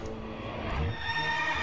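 A short ghostly horse neigh with a whinnying pitch sweep plays as the Death Charger card effect in Hearthstone, over faint game background sound.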